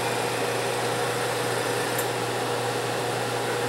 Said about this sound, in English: I'm going to turn on the compressor.